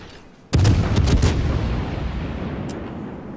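Naval guns fire in the World of Warships video game as a ship engages the Bismarck. One loud, sudden boom comes in close and rolls out in a long decaying rumble, with a few faint crackles afterward.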